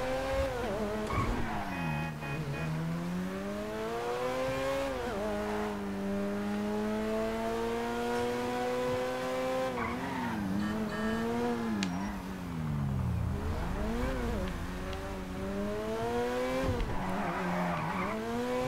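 A car in the video game GTA V drives hard with a sweeping, revving engine, rising and falling through gear changes while its tires skid and squeal. The sound is loud and close, with no voices.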